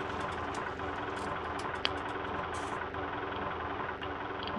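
Tractor engine in Farming Simulator 19 idles with a steady, close low rumble and faint rattling, a single sharp click partway through, no talk.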